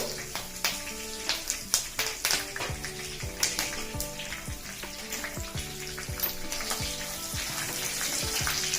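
Mustard seeds and green chilli slices sizzle and crackle in hot oil, with dense sharp pops scattered over a steady frying hiss and a tonal background layer throughout.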